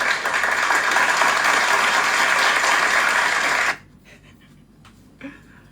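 Audience applause from a crowd fills the first few seconds, a dense steady clapping that stops abruptly, followed by near silence with a faint stray sound.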